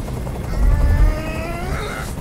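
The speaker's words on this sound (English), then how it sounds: "Tell that helicopter to get out of here!" Helicopter from the video game Detroit: Become Human, a heavy low rotor rumble that swells briefly in the middle, with a steady mechanical whine layered over it.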